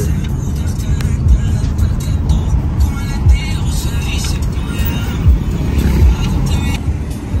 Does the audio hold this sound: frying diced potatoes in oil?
no